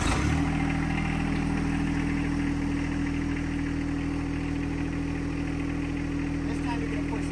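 A John Deere 2025R compact tractor's engine runs steadily at idle, a constant low hum and rumble throughout while someone talks over it.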